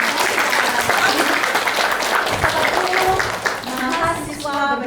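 Students in a university biology talk show audience applaud, a loud, dense clapping wash, with voices and cheering rising toward the end.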